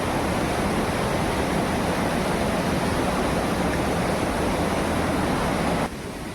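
A waterfall at the Double Decker Living Root Bridge in Meghalaya roars as a loud, steady, close rush of falling water, with no voices, easing slightly in the final moment.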